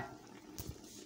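Water is poured into a cooking pot ahead of adding unripe plantain, with a catfish and pepper dish on the fire, giving a brief, steady splashing rush with one louder gush partway through.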